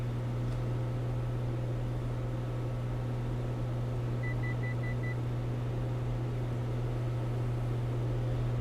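Short series of five quick electronic beeps from the autopilot altitude alert in a Cessna 182 flight simulator, sounding over a loud steady engine drone.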